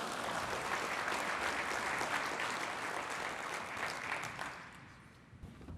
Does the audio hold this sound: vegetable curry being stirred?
no